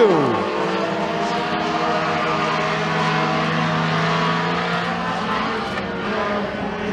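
Race cars roar around a dirt raceway in a heat race at McKean County Raceway, with loud sustained engine drone and a pitch-dropping pass at the start, under a commentator's voice.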